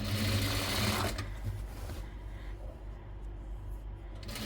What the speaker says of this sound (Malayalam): ഈ ഒരു സൈഡിലൂടെ ഇങ്ങനെ തയ്ച്ചെടുക്കുക വേണ്ടുള്ളൂ